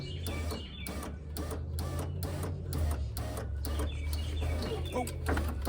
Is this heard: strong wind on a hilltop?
no